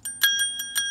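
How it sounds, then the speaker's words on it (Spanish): A bright metal bell, like a bicycle bell, is rung in about five quick rings with a sustained ringing tone, close and clear. "Pues tóquele la campana."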